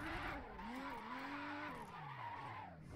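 Tires skid continuously as a car drifts in a racing video game, a loud, steady squeal over a droning engine whose pitch rises and falls throughout.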